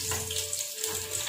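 Sliced onions hit hot oil in a pan alongside fried potatoes over a low gas flame, giving a steady, close hiss and sizzle with no voices.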